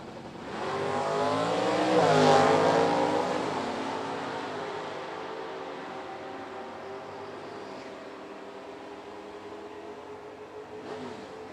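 A Pontiac GTO with an automatic transmission and a Firebird, both stock-class drag race cars, launch and scream past in a loud rising and falling engine roar, fading into a distant steady drone.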